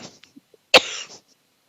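A single sharp cough from a woman under hypnosis, close and abrupt, followed by a brief rough exhale and quiet breathing before and after.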